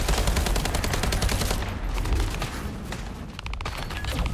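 Rapid automatic gunfire aimed at a boss in The First Descendant, a dense, loud stream of shots that barely pauses and carries on steadily throughout.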